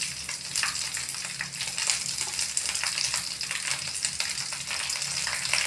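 Half a kilo of red chillies fry in sesame oil, filling the space with a steady, crackling sizzle at moderate volume that continues without pause and without any talking.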